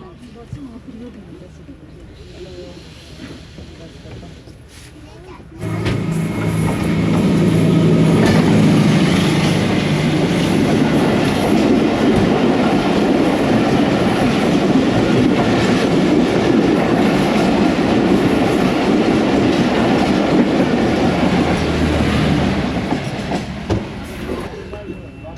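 Subak Raftar railcar running on the track between Gujrat and Rawalpindi: a loud, continuous rumble with rhythmic clickety-clack that swells after a quieter start and holds steady, with voices faintly underneath.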